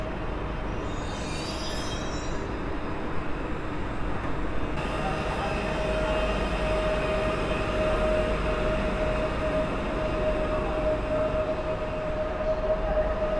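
An S3 line Elf electric multiple unit, 27WE-002, arrives at Legionowo station with a steady rolling rumble, a sustained electric whine and faint brake squeal, loud and near for the whole stretch.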